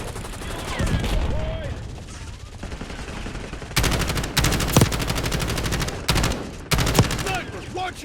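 Automatic gunfire in a Call of Duty: Black Ops 6 multiplayer match: loud, close machine-gun bursts in several separate volleys, with voice chatter in the quieter gaps between them.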